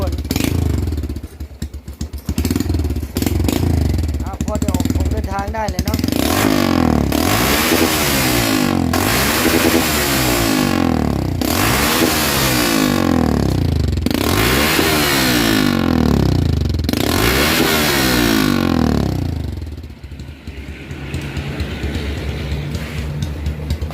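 A motorcycle with an aftermarket exhaust pipe is started and revved repeatedly, about six rising and falling roars of the engine, loud and close, settling back to a rough idle at the end.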